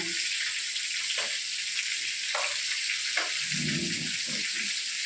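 Hot oil sizzles steadily in a wok, a constant bright hiss with a few soft knocks, close by.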